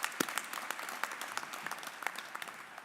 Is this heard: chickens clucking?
no